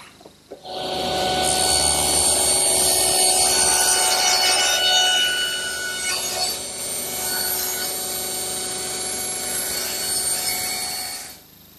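A saw cuts through a tongue and groove board at a 15-degree angle, a loud, close, continuous rasping cut that keeps up for several seconds before stopping abruptly.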